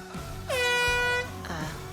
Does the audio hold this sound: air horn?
yes